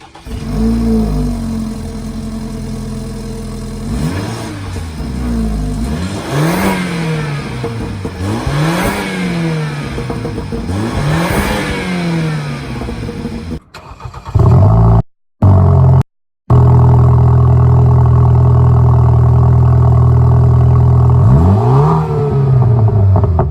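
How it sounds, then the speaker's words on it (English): Loud dual exhaust on a BMW 428i revving repeatedly, engine pitch climbing and falling in several swells, deep rumbling idle between, recorded up close with a few brief dropouts. "I'll include a video of the way it sounds now"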